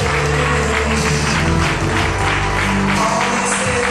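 Warm audience applause greets a singer as he takes the stage at his birthday celebration concert, a dense steady wash of clapping lasting several seconds with a faint hum of music or crowd underneath.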